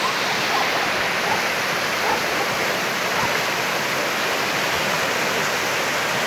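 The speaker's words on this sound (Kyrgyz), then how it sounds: "Суунун шарын угуп эс алыңыздар." A clear mountain river fed by glacier meltwater rushes past at a summer pasture in Kyrgyzstan, a steady, dense roar of flowing water close by, continuous and unbroken, with no voices.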